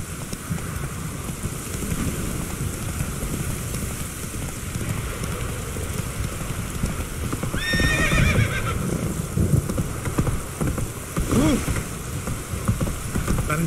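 Roach, a horse in The Witcher 3 video game, gives a short whinny midway through over steady hoof clatter and a rain-like background wash, with a second brief call near the end.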